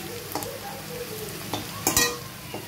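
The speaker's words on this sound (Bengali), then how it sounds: "তোমার এই যে লাউ খোসা ভাজা কমপ্লিট" Bottle gourd peels fry in a pan with a soft sizzle, broken by a few scraping stirs and a louder clatter near the end, close and alone.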